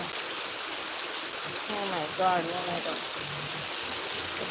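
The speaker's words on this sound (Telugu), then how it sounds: "heavy rain" Heavy rain pours in a steady, broad hiss that runs throughout, with a voice speaking briefly over it midway.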